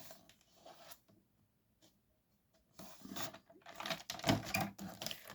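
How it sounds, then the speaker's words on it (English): Quiet mechanical clicks and scraping from a paper trimmer, then a burst of sharp blade chops and rasping slides as card is sliced, close by with no voices. "Do this with scissors or as I'm doing with the trimmer."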